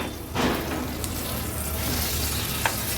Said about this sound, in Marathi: आता ह्या तुकड्या मी पलटून घेते।